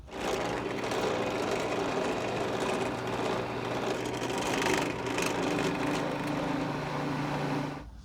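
Wooden barn door pieces are sanded with a power sander, a steady close buzzing whir running continuously for several seconds with slight rises and dips in pitch and loudness before cutting off.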